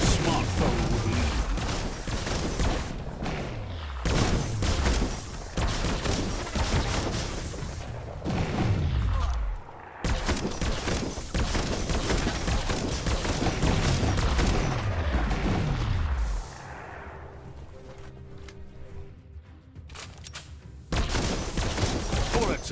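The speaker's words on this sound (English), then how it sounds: "Bullets everywhere." Heavy gunfire and explosive bursts from Biomutant, repeated falling booms and crackling volleys in long loud runs, dropping briefly to a quieter mechanical hum before resuming.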